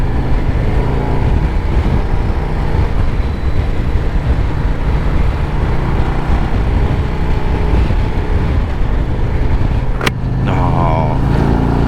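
A 2024 Harley-Davidson Road Glide motorcycle on the move, its engine a loud, steady low rumble mixed with wind. A brief sharp click sounds near the end.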